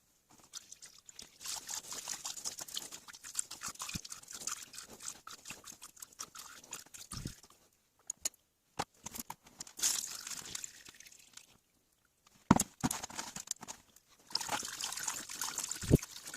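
Grapes being squashed by hand inside a container for homemade Italian wine, giving wet squelching, trickling and sloshing bursts with brief pauses and a few sharp knocks, close and moderately quiet.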